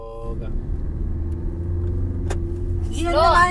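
Car engine idling and running steadily during a driving lesson, a constant low rumble with a rise in revs toward the end, while people talk inside the car.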